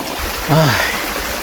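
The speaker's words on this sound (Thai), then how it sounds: "นี่คือน้ำตกชั้นที่6นะครับ" Water rushes steadily over the sixth tier of Kao Chon waterfall in Ratchaburi, a continuous broadband hiss heard up close, while a voice briefly exclaims partway through.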